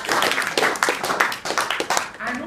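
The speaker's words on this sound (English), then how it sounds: "Can we have a round of applause for her work?" A small audience claps for an election agent at a Labour group gathering, with uneven, close individual claps that rise and fall in bursts, and voices mixed in among them.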